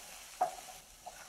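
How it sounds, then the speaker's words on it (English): Onions and celery cooking in a pan with splashes of vegetable broth, giving a soft steady sizzle with a few distinct scrapes of stirring. "Keep stirring it, add splashes of the vegetable broth as needed"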